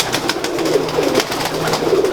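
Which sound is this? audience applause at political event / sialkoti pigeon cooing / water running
sialkoti pigeon cooing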